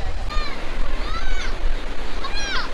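Sea waves wash steadily onto the shore at Mandarmani beach on a busy Sunday, a continuous loud rushing surf mixed with wind, with gulls or birds crying several times in between.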